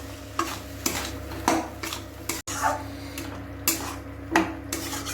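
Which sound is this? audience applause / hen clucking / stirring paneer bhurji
stirring paneer bhurji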